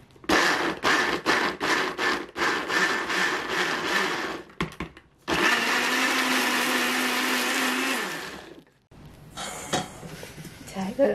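A kitchen blender grinds frozen blueberries with no water added, loud and close, running in bursts that pulse on and off, then one long steady whir before a brief stop and a restart.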